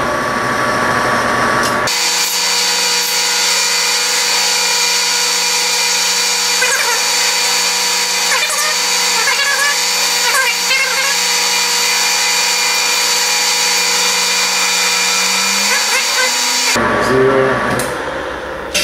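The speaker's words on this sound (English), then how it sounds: "I'm just going to take a whole bunch of cuts until I get down to my thread depth." A lathe cuts threads on a tube at 24 threads per inch, a loud, steady high-pitched whine of the running machine for most of the stretch, ending as the motor winds down, with no talk.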